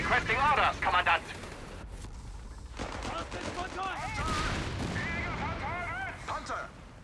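Artillery fires in Company of Heroes 3: repeated loud blasts and rolling booms sit under dense battle noise and radio-style voices talking throughout.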